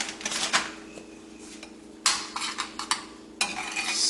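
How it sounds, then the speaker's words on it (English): A spoon stirring grated cheddar cheese into grits in a pot, with repeated scraping and clinking strokes against the metal that come in short bursts, close and fairly loud, with no voices. "Stir that in a little bit."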